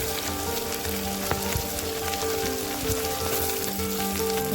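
Steady crackling sizzle of onion frying with garlic in hot oil, continuous and close, with occasional sharper pops and no talking.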